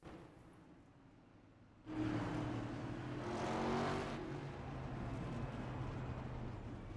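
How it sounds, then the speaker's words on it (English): Racing video game car engine revving hard during burnouts, a sudden loud sustained roar that swells and holds steady, with a rising pitch surge in the middle. "I think he's done his burnouts"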